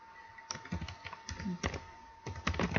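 Typing on a computer keyboard while setting up Node.js on Windows, a quick run of close, crisp key clicks in uneven bursts with short pauses, heard alone over a faint steady hum.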